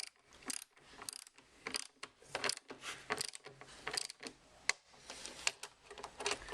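A socket wrench ratchets on 10mm bolts while a raised air intake snorkel is fitted to a Toyota Hilux Mk6/7 Vigo pickup, making rapid, close clicking bursts in an uneven rhythm.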